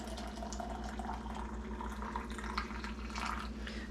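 Boiled water pouring into glass canning jars for pressure-canning pinto beans, a steady continuous trickle and splash with gentle, fairly quiet gurgling throughout, no talking.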